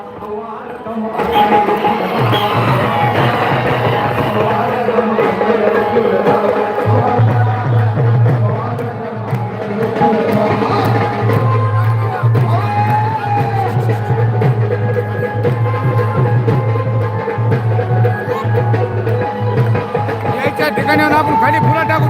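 Large crowd at an activist's rally in Beed: a loud, continuous hubbub of many voices with a low steady rumble underneath, while a nearby voice talks over the crowd noise throughout.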